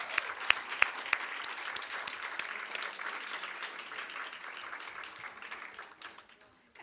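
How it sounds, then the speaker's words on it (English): A round of applause for a cohort of women taking a course with IFC, sustained steady clapping from an audience that thins and fades out near the end. "we give them a round of applause"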